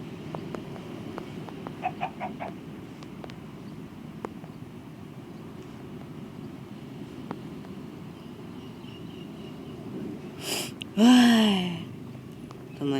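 Chickens in the Minecraft video game give short clucks, mostly faint at first, then a louder burst of squawking near the end, with a voice talking over parts of it.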